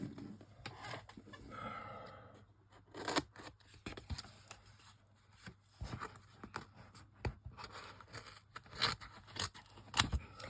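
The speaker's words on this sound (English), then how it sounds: "Let's cut a piece off." Scissors cut a small piece off a double-sided adhesive foam sheet, producing a series of faint, close snips and crisp clicks with soft rustling of the sheet in between, very quiet overall with no talking.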